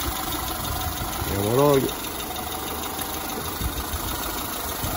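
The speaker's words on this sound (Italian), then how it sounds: "motore silenzioso, asciutto" Citroen C3 engine idling with a steady low hum, overlaid by someone speaking close by; the timing belt kit and water pump have been replaced and the engine runs quiet and dry.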